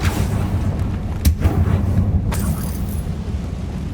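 Two punchy blasts from the Confringo fire spell in Hogwarts Legacy, each a sudden boom over a steady low rumble of game ambience, loud and near, spaced about a second apart.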